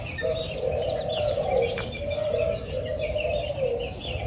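A small serama rooster calls close by in a few drawn-out, low, hoarse crows that run almost back to back over faint background noise, with no one talking.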